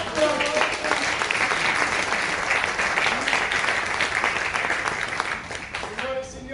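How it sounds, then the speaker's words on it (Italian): Theatre audience applauding the hosts at a café chantant stage show, sustained clapping from many hands with a voice speaking over it near the start and end. "un applauso"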